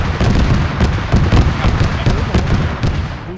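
Autocannon fire in the military video game ArmA 3: a loud, sustained run of heavy thudding blasts repeating in quick succession, with booms piling on one another and no pause.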